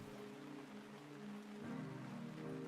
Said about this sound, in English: The sound of rain is loud.